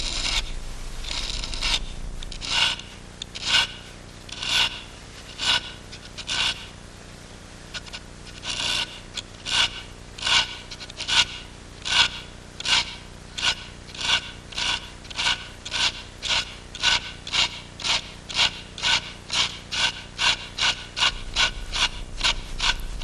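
Pencil stroking back and forth on paper while practising parallel lines, a dry rasping scrape repeated in a steady rhythm that grows faster and more regular, close and fairly loud with no talking.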